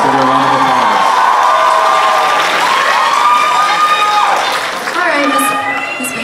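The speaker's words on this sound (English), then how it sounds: "Let's give you a round of applause." A university pageant audience applauds and cheers, with loud whoops and shouting from the crowd over continuous clapping in a large hall, sustained and then easing slightly.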